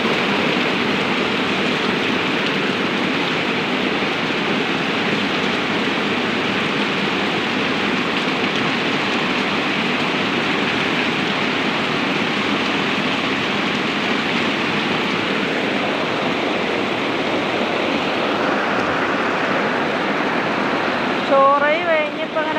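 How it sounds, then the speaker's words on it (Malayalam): Heavy rain pours steadily around a house, a dense, continuous hiss of drops hitting surfaces, evenly loud for the whole stretch with a brief faint bird-like chirp near the end. "അപ്പം മഴ പെയ്യുന്ന കണ്ടപ്പോൾ വെറുതെ ഇങ്ങനെ വീഡിയോ എടുത്തു"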